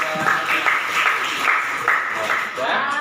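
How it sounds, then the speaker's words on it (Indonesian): A class of students claps together in a steady, moderately loud round of applause, with a faint voice over it. "beri tepuk tangan untuk"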